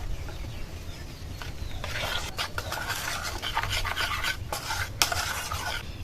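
Baking powder is mixed into a thick semolina batter with a spoon, making soft, wet scraping and slapping strokes that come in irregular bursts over a low background hum. No talking.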